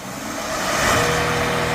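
A Hyundai Veracruz with 370,000 km is revved hard during an emissions test, a loud, steady engine roar that builds and holds throughout the short burst.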